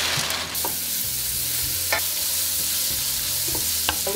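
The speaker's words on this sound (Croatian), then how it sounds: "Luk stavite u veću šerpu ili tiganj, 100 ml ulja i prodinstite." Onions sauté in about 100 ml of oil in a large pot or pan, a soft steady sizzle broken by several sharp stirring scrapes of a utensil against the pan, close and without talk.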